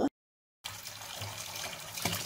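Straw mushrooms are rinsed under running tap water for a vegan crab-paste vermicelli soup, a soft, steady splashing stream after a brief silent gap, fairly quiet and close, with no speech.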